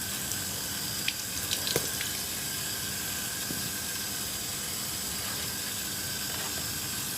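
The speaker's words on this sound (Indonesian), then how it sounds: "kita siram dengan air aja tanpa pupuk gitu loh" Tap water runs in a steady broadband hiss to water aglaonema plants at a nursery, continuous throughout with a few faint drips and clinks.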